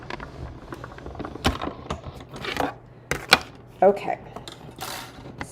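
A hand-cranked die-cutting machine presses stacked plates for card making, giving irregular creaks, clicks and mechanical clatter with uneven bursts; a voice speaks briefly.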